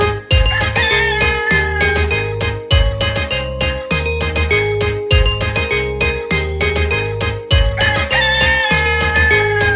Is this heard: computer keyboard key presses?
no